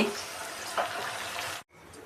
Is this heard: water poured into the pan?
yes